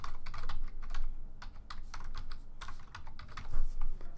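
Typing a file name on a computer keyboard, a quick run of close, crisp key clicks in bursts with short pauses, alone without talk.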